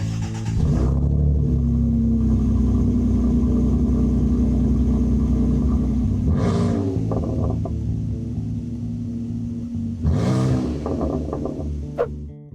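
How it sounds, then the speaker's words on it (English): A Nissan Frontier pickup engine fires up and settles into a loud idle, then takes two sharp throttle bumps, one around the middle and one near the end, each rising and falling quickly through a clean-sounding exhaust. "fire this thing up and give it a couple bumps with the throttle"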